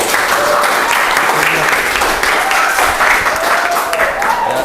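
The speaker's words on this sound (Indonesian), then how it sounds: "Beri tepuk tangan ke kelompok." Loud, steady applause for a student group after their presentation, sustained clapping from a room of people throughout, with some speech mixed underneath.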